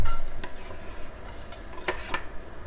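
Chopped garlic tipped into a pan for spaghetti with sardines marinara, giving a few soft scraping, clattering hits against the metal that build into a brief rustle near the end, close and moderately loud over a low background hum.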